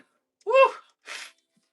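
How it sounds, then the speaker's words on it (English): A single close sneeze bursts out in two sharp parts, a voiced intake followed by a breathy explosive release, then silence. "I got to sneeze, man."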